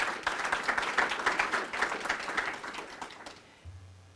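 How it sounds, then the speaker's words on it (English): An audience at a city budget meeting claps for the police department, a dense burst of applause that tapers off toward the end, with a low voice resuming at the close. "Can we give our police department men and women a round of applause for the work they've done?"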